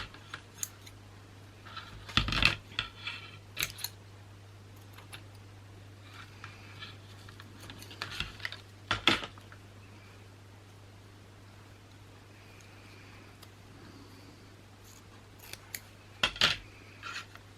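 Scissors cut tape for a handmade Christmas gnome album in a few quick, isolated snips spread over a quiet room with a low steady hum, faint handling noises between them.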